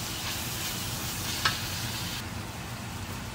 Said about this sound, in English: Now I'm going to add my onions. And just cook it until it's soft.